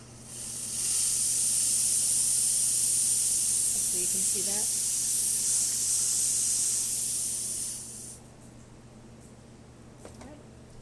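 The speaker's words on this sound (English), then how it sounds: "And then I'll show you the steam." Steam wand on a serviced La Pavoni Europiccola lever espresso machine hissing loudly and steadily for about seven seconds, then cutting off abruptly, with someone speaking briefly over the hiss.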